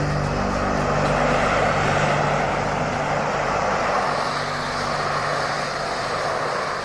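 McDonnell Douglas AV-8B Harrier II jet hovering, a loud, steady roar of engine thrust with a sustained droning tone, close and continuous.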